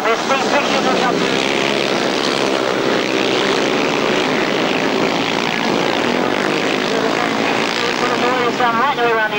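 Three grasstrack racing motorcycles roar together into a bend, their loud engines droning and rising in pitch continuously, with a commentator's voice talking over them.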